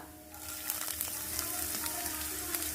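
Fennel seeds, cumin and chopped ginger fry in hot tempering oil, giving a steady close sizzle with crackling pops scattered throughout.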